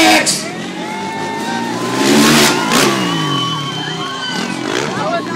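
A dirt bike engine revs loudly and close by, its pitch climbing and falling through repeated throttle blips over a steady idle, while someone talks over it.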